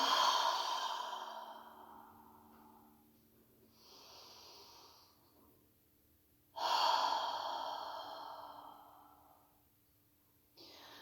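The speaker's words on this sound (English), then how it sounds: "Take a big breath. Maybe even exhale out the mouth." Two deep exhalations out the mouth during a beginner yoga class, each a long breathy sigh that starts strong and tapers off slowly, close to the microphone with a quiet pause in between.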